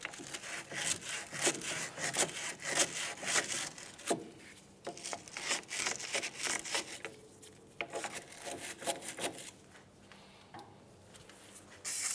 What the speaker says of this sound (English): we're going to just lightly get to what we can with our wire brush